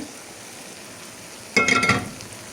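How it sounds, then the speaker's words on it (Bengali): Fried pointed gourd and potato pieces tip into a hot pan of shrimp and poppy-seed curry, setting off a sudden loud sizzle and clatter that fades over about a second. "আর এখনই আমি দিয়ে দেবো এখানে ভেজে রাখা পটল আর আলু।"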